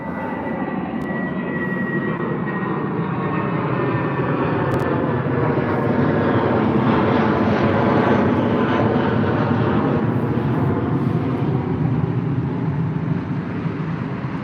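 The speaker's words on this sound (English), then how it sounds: "an A319 heading out to Dublin with British Airways" A British Airways Airbus A319 departing Heathrow for Dublin, a loud steady jet engine roar that holds throughout and swells slightly mid-way as the aircraft passes, with no talking.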